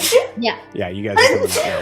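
A sharp, sudden sneeze bursts out close by and is quickly surrounded by people talking casually.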